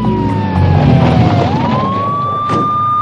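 An ambulance siren wails loudly and close by, its pitch sliding down and then back up over a rumbling traffic background with no voices.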